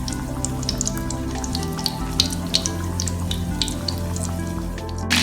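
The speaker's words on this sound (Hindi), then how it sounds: "ये विंग्स आपने लो फ्लेम पे फ्राई करने हैं, गरम घी में डालेंगे" Chicken wings frying in hot ghee on a low flame, a close crackling sizzle with scattered sharp pops and spits over a steady bubbling bed.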